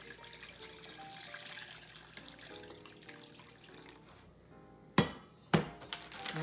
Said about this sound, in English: So pouring the brine